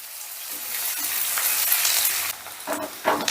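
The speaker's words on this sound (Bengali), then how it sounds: "এবার পেঁয়াজটাকে আমি হালকা করে ভেজে নেব মানে একটু নরম করে নেব" Chopped onions frying in hot oil over a raised gas flame, a steady broadband sizzle close up, with a few louder spattering bursts and stirring scrapes toward the end.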